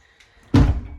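A faint click, then a solid wooden thunk of a barn's Dutch door swinging shut, close by, with a short resonant tail.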